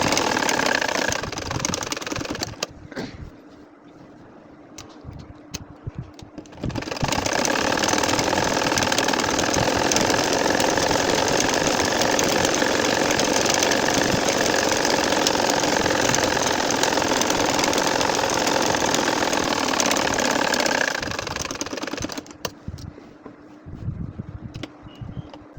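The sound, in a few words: sewing machine stitching nakshi kantha quilt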